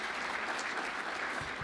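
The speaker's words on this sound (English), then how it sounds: "one more round of applause for our speaker" Audience applause for a speaker at a youth concussion symposium for medical professionals, a steady even roar of many hands clapping, fairly quiet and continuous with no talk over it.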